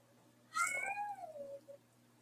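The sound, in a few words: cat meowing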